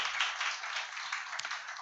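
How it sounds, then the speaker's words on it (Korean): A church congregation applauds during a Thursday evening worship service, giving a steady patter of many hands clapping together at a moderate distance for just under two seconds, with no voices over it. "우리 삼산 이목장에게 격려의 박수 부탁드립니다"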